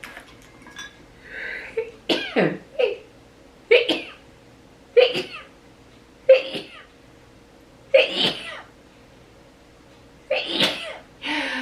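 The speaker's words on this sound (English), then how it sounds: "I sneeze in multiples, guys." A run of about seven sneezes, each a sharp burst with a breathy lead-in, spaced a second or two apart, close and loud.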